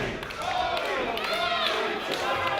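Wrestling arena crowd at an EVOLVE event, a loud sustained roar and cheering with scattered claps and shouts, carrying steadily under a commentator's voice.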